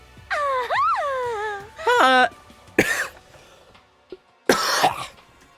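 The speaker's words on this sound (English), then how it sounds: "I just like straight up coughed, didn't I?" A single person coughs and clears their throat a few times in a quiet indoor space, short harsh bursts between drawn-out vocal moans, with no other sound behind them.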